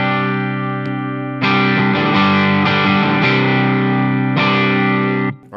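An electric guitar runs through a Fulltone GT-500 overdrive with the drive turned up, giving thick, gritty sustained chords in long ringing bursts, loud and close, with a short pause before the chords cut off at the end.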